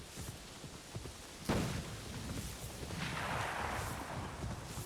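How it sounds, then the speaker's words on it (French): A single sharp gunshot cracks in the video game Assassin's Creed Shadows, followed by a low rumbling game ambience and faint distant thuds. "Il y a plein de coups de feu. C'est un peu flippant."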